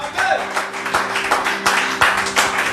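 A church congregation claps steadily in time, with sharp, evenly spaced claps about three per second over sustained music tones. The sound is loud and close.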